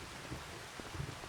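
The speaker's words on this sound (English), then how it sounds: "I'm standing outside in the rain" Steady rain falling outdoors on a March farm during plowing season, a soft continuous hiss with a few faint drops and thumps, no voices.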